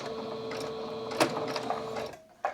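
A sewing machine running a wide zigzag stitch on dish mats for a seat cushion, a steady mechanical whir with a faint repeating tick that stops abruptly near the end.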